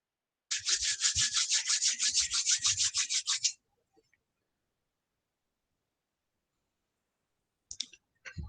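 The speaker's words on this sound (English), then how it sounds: "Now rub your palms together, rest them on your closed eyes." Two palms rub briskly together in a quiet room, a rapid rhythmic swishing that lasts about three seconds before silence, then a faint rustle near the end.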